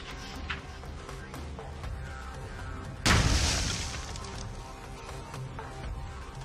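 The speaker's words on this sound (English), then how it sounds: "we got some pretty cool little explosions out of them" Tracer rounds from an AR-15 igniting propellant targets, a single sharp explosive boom midway that decays over about a second, amid outdoor background noise.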